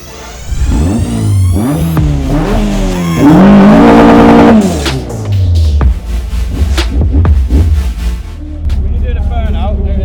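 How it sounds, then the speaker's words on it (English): At Santa Pod drag strip, a car does a tyre burnout: loud, close engine revs climb and fall in repeated bursts as the tyres screech and roar. The sound then settles into a rough idle. "When you're doing a burnout, do it in here."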